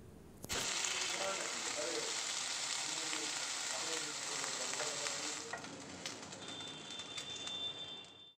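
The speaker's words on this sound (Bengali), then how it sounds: "দুটো ব্যাচে আমি চিকেনগুলো অয়েল রোস্ট করে নিচ্ছি।" Chicken pieces roast in oil in a pan, a loud, close, continuous sizzle that starts abruptly, carries occasional stirring clicks and soft cooing in the background, then tapers off near the end.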